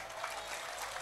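Applause from an audience at a humorous Sundanese Islamic sermon, a steady dense patter of clapping filling the whole moment without a break.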